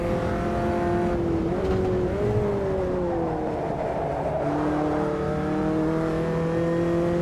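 Formula Inter race car engine in the Automobilista 2 sim, a steady loud high-pitched drone with gliding pitch as revs rise and fall through gear changes, continuous throughout with no talk.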